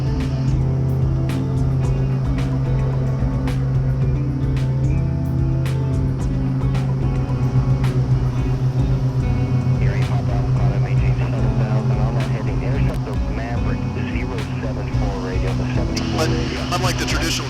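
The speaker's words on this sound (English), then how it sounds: "Takeoff power set. Got a good sound to it." Loud, steady drone of a King Air 200's turboprop engines at takeoff power, with strong low tonal hum sustained throughout and faint voices mixed in.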